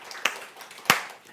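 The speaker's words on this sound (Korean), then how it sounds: "하나님께 영광의 박수 한번 올려드려" Two sharp, brief claps from a church congregation, spaced about half a second apart, moderately loud against a quiet room in a worship service.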